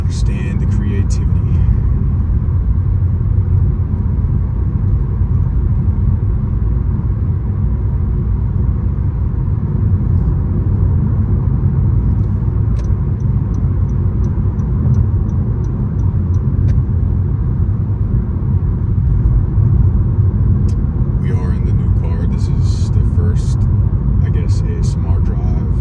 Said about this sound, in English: ASMR drive in the new car.